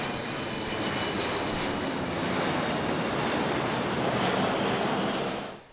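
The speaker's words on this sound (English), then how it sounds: "the first few C-17s began to land at Ramstein Air Base" Steady roar of a C-17 military transport aircraft landing at Ramstein Air Base, a continuous broadband jet rush holding level for several seconds before easing off at the end, with no talk.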